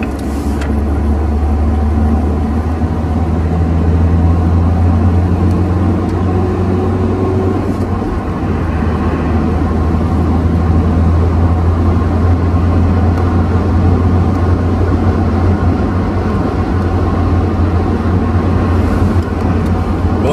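Steady road noise from a car cruising on the Route Nationale 89 in France, a constant low engine and tyre rumble with a faint hum, continuous and fairly loud throughout with no talk.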